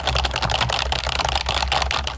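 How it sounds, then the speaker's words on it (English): Loud, fast clattering of computer keyboard keys, a dense continuous stream of close-up keystrokes with no talking over it. "That's a crazy loud keyboard."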